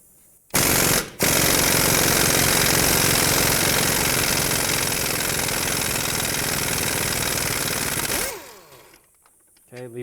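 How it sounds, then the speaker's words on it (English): An impact wrench spins loose the strut nuts on a 2003-2007 Nissan Murano with a 22mm socket, a loud sustained mechanical hammering rattle that starts abruptly, runs for about eight seconds, then winds down. "I'm going to remove these 2 nuts with a 22mm socket"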